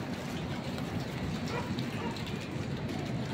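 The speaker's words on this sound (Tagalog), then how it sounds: "Ayan na po, malakas na ang ulan." Heavy rain pours down in a dense, steady wash of hissing patter, loud and unbroken from start to finish, with no voices.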